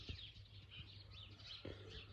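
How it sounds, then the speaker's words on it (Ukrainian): Small birds chirp and twitter faintly on a sunny village morning, a few short calls repeating softly over quiet background with distant low hum. "Дуже красиво, пташки співають."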